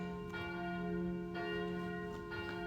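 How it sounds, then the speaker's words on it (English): Church bells ring with a sustained, gently pulsing tone, heard faintly through the walls from inside an apartment in Kotor, Montenegro, with no voices. "Now, there are those bells."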